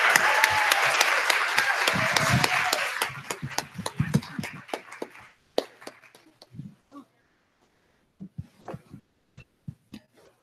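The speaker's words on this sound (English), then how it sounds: "Let's give them all another big round of applause." Audience applause for sixth-grade performers at a Greco-Roman day event: dense clapping for the first few seconds thins out into a handful of scattered, separate claps that trail away, with gaps of near silence near the end.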